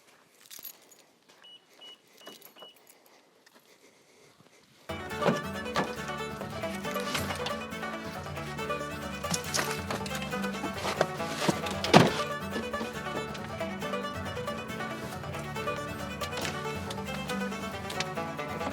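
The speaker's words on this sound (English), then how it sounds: "I'm gonna get in my truck and drive away" A person climbs into a truck: faint key jangling and small handling sounds at first, then a sudden steady cabin hum with a sharp thunk of the door closing midway, quiet and close.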